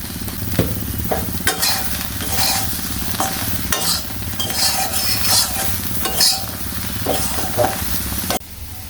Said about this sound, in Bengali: সয়াবিন বড়িগুলোও কিন্তু হালকা লাল লাল করে ভাজা শেষ, এবার আমি এগুলোকে তুলে নেব।